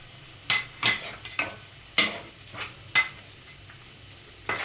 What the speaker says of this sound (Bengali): এবারে ভালো করে আদাটাকে একটু ভেজে নিই